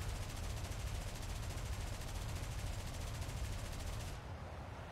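Aircraft gunners firing machine guns in the War Thunder video game, a loud, continuous rapid rattle of gunfire that fills the whole span, with the high end thinning out near the finish.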